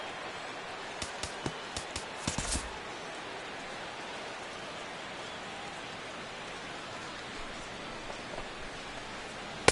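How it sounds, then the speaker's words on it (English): Steady rain falls in a PS4 baseball video game, a constant hiss across the whole stretch, with a few sharp clicks and knocks early on and no voices. "the rain continues to fall here"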